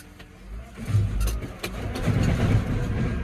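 Farm tractor engine running while burying something on a grass farm, a close mid-pitched rumble that swells and revs unevenly, with clanks and knocks over it and no talking.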